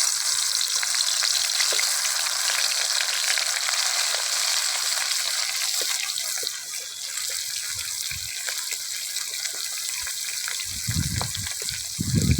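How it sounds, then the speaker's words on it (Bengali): Giant freshwater prawns fry in hot oil with a loud, steady, close sizzle that holds throughout, with a few low clunks and bumps from the pan near the end. "আমার তেলটা গরম হয়ে গেছে, চিংড়ি মাছগুলো দিয়ে দেবো।"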